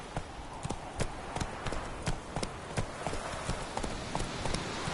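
The horse Roach galloping in The Witcher, a quick, regular thudding hoofbeat rhythm close by, continuing throughout over a busy background.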